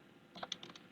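Typing an IP address on a computer keyboard, a short run of faint, quick key clicks, heard alone.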